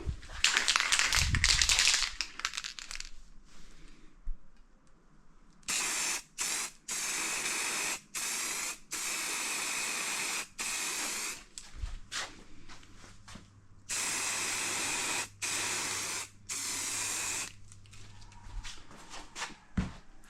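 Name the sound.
aerosol spray coat being applied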